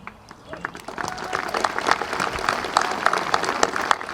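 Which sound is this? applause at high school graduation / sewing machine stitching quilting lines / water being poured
applause at high school graduation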